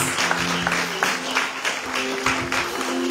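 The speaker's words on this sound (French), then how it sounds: "Chaudement, je vous demande d'applaudir Madame Marie-Ange Saïs." Audience applause greeting a singer at a Haitian performance, steady dense clapping throughout with sustained tonal background music or hum underneath, no speech over it.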